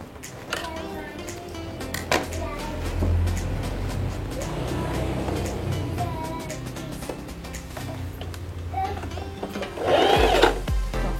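A portable sewing machine with thread bunching up underneath runs with a steady mechanical whir and rattle close by, with a louder burst near the end and a voice speaking over it.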